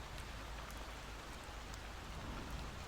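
Steady rain pours through a night scene in the horror video game Night Security, a dense, even wash of drops with no voices, quiet and continuous throughout.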